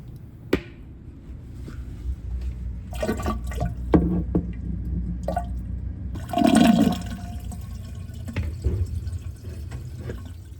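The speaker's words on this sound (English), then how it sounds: "And then I'm going to drain the dishwasher." A kitchen dishwasher drains into a sink drain line, with a steady low rush of water, gurgling, splashing and dripping, a clunk early on and a louder surge midway, heard alone.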